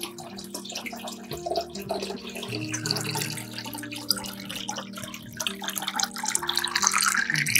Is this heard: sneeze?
no